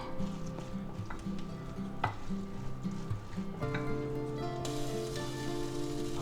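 Noodles are tossed with oil in a bowl, giving soft, irregular stirring and clinking sounds over a low, steady background hum.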